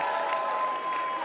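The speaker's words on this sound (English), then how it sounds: "I think you got a very loud cheer." Applause and cheering from a large crowd at the CPAC conference, a dense steady wash of clapping that holds through the whole stretch without breaks, moderately loud and heard from within the hall.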